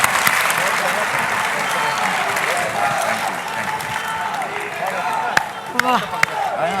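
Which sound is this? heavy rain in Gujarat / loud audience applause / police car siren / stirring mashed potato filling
loud audience applause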